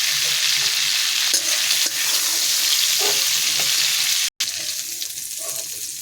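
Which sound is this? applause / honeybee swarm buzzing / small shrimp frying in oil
small shrimp frying in oil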